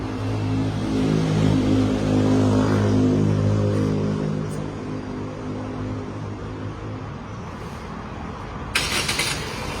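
A Toyota Corolla Altis 1.8 Dual VVT-i car engine idles steadily with a low, even rumble, close by, then a brief burst of hissy noise near the end.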